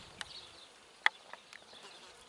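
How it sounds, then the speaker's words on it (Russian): A wild solitary bee buzzing while feeding on spring honeydew, faint wing hum broken by a few brief, sharp close passes, with no voices. "Вот это вот дикая одиночная пчела."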